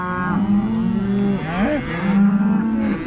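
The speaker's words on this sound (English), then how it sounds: "Process of cutting all the cull cows out." Cattle moo loudly and close at hand on a farm while cull cows are sorted out, several long overlapping lowing calls in sequence against a background of herd noise.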